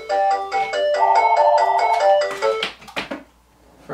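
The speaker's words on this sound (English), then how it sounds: "Forgot to unplug the phone." A landline telephone rings loud and close with a repeating electronic melody of bright tones, the ringing stopping abruptly partway through, followed by faint handling noise and quiet.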